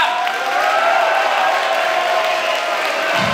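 A crowd at a REBELS kickboxing event gives sustained applause mixed with cheering, a dense, even wash of clapping that holds steady and loud for several seconds.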